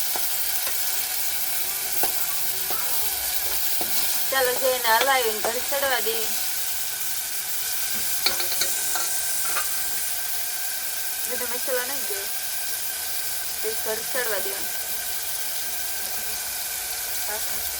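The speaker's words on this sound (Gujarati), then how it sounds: "આપણે બધું ટમેટા ડુંગળી મરચાં બધું જો ભેગું મિક્સ કાપી નાખી દીધું છે વઘારમાં" Chopped tomato, onion and chilli sizzle together in a hot tempering, a steady hiss of frying that runs under a voice speaking in short bursts.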